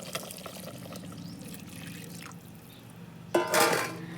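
Water is poured into brinjal curry cooking on a wood-fired stove, a short splashing pour near the end after quiet simmering and faint clinks.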